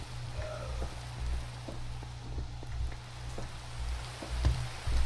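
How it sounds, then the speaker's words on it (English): Steady rainfall in the Minecraft video game, a continuous low patter with faint scattered drops running evenly throughout, moderately quiet and with no voices over it. "There's an Enderman freaking out because it's raining"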